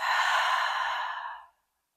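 A long, breathy exhale through the mouth during a slow-flow yoga session, one steady airy release lasting about a second and a half that fades into silence.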